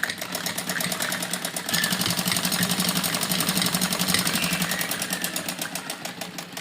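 A sewing machine stitches a frock in a fast, even mechanical rattle, close and steady, its pace picking up slightly partway through, with no voices.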